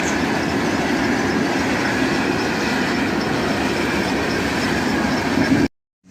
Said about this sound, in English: A Norfolk Southern SD60M leads, followed by a CSX-8.